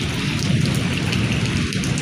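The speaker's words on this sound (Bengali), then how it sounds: "এত বড় একটা বজ্রপাত মাত্র হইল" Heavy downpour roars steadily during a village thunderstorm, with a deep low rumble of thunder underneath the dense rain hiss throughout.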